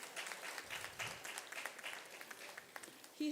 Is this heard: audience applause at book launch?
yes